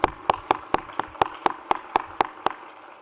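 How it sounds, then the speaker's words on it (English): Conference audience at a housing summit clapping for the previous speaker: about a dozen crisp, evenly spaced claps in a steady rhythm, close and fairly loud, then stopping. "I think we need one more round of applause for the last speaker"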